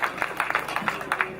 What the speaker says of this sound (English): Please give Mrs. Mukeira and Joy a hand of applause.